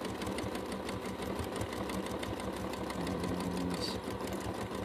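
A sewing machine runs steadily, stitching around the glued edge of a wool-base tote bag, a continuous close mechanical whir with a fast even needle rhythm throughout.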